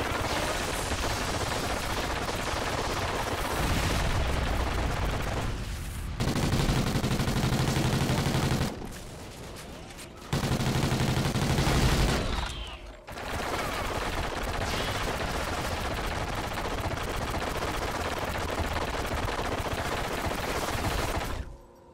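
Rapid, sustained gunfire from the video game Call of Duty Ghosts Extinction, loud and dense. It rattles almost continuously with a few brief drops before picking back up.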